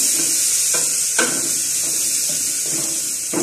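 Onion, salt and garlic fry in hot oil for a fish curry, giving a close, continuous sizzle broken by a few scraping stirs of the pan.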